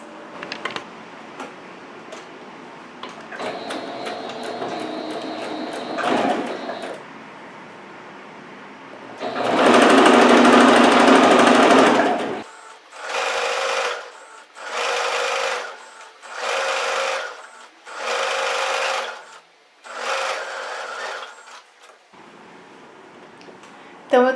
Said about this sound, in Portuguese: a gente vai lá pra máquina de costura